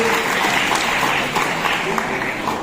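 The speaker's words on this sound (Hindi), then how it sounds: "हम सब मिलकर जैसी तालियां बजाते वैसी बजाएंगे" Audience applause at a career seminar, a dense, steady clapping that fills the whole stretch at an even level, with faint voices mixed in beneath it.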